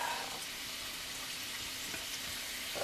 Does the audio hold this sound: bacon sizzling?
yes